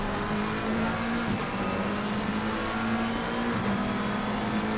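GT3 race cars in Assetto Corsa Competizione at Red Bull Ring slipstreaming a Ford, with a steady loud engine drone that holds one pitch throughout, dipping briefly twice, and no voices.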